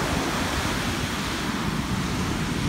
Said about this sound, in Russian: Далеко волна заходит.